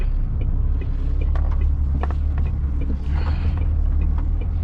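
A heavy goods vehicle's diesel engine pulls away in gear, a loud steady low rumble running throughout with faint mechanical creaks and clunks over it.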